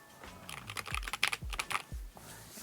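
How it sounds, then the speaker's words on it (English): Typing on a Keychron Q6 HE QMK mechanical keyboard, a rapid run of crisp clacky keystrokes with a few deeper thocks, close and clear with no voices. "I am so impressed with this Keychron keyboard"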